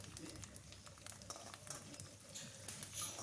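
Chopped garlic and curry leaves fry in a pan on low heat, giving a steady close crackle and patter of sizzling oil with brief spikes of spattering throughout.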